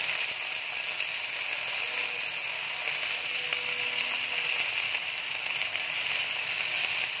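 A steady, even sizzle of cauliflower and potato frying in hot oil, a continuous hiss that never lets up across the whole stretch.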